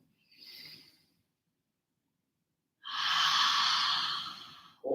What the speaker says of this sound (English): Go ahead and do some audible H-A-ha breaths.